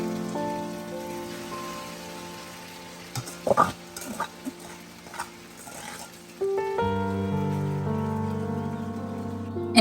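Cooked ada (rice flakes) for Onam ada pradhaman are sautéed in ghee, with soft sizzling and a few scraping stirs against the pan, mostly under steady background music.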